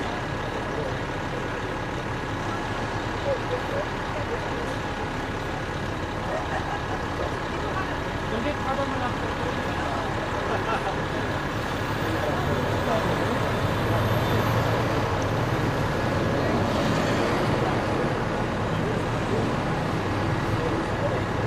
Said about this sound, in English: You guys can hear me over the engine?